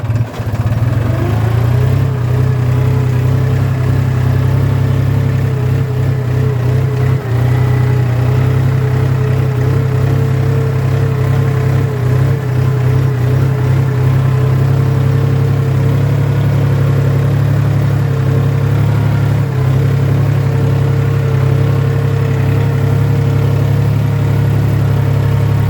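A tractor engine plowing out a finished marigold field, running as a steady, loud, low drone with a constant rumbling hum and slight load variations throughout, with no talking over it.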